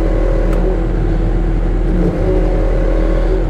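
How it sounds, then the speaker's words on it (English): John Deere P Tier skid steer engine idling steadily, its drone shifting slightly in tone as the auxiliary hydraulics are switched on, a loud continuous mechanical hum throughout with no speech. "I can actually hit this switch and you will hear a change in the engine."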